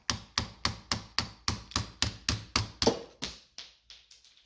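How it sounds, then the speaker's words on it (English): A stuck socket being tapped with a hammer around its edges while rebuilding a Fox 2.0 steering stabilizer: about a dozen sharp, evenly spaced metallic strikes, close and clear, the last few louder and then ringing out. "Kind of go around the edges and tap it."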